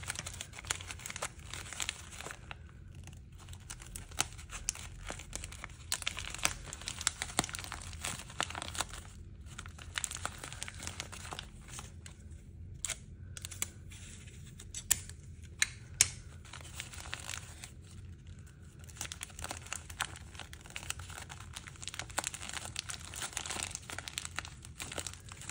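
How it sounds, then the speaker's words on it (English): Sticky tape being pulled, torn and pressed around loose ends of a clay face shape, a steady crinkling and tearing that runs throughout with short pauses, close and fairly quiet, with no talking. "to keep the shape together, just take your tape and tape any loose ends"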